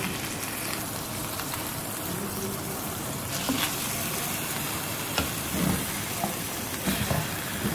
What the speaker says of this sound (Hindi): ये देखिए हमारी चिकन फ्राई हो रही है